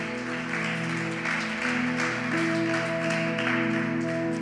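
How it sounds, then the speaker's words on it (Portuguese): A church congregation claps during a service, sustained applause mixed with a tonal musical hum in the background, moderately loud and steady. "Aplaude a Jesus."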